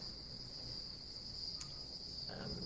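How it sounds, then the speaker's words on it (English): Cicadas calling in a garden, a steady high-pitched drone that holds throughout, fairly faint and distant, with a brief click and a low rustle near the end. "The cicadas are still looking for girlfriends frantically"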